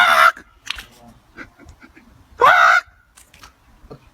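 Birds give two loud, harsh honking calls, one at the start and another about two seconds later, with quieter rustling and scattered noises between them.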